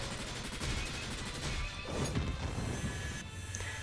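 Attack finishing off the last slime in the Langrisser M mobile strategy game, a dense crashing impact burst with rapid rattling hits and a sweeping swish, steady and loud throughout.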